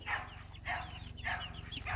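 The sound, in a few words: chickens clucking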